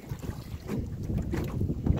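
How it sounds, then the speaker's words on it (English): Gusty wind buffeting the microphone beside a slough on a spring trapping trip, a continuous low rumbling roar with rising and falling gusts, close and loud with no talking. "It is windy."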